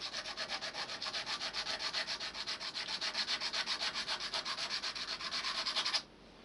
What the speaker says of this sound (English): sand until you get down to the brass tube